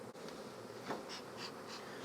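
Bees buzz around an open hive box during a heavy nectar flow, a close, continuous droning hum with a few brief louder swells as individual bees fly past.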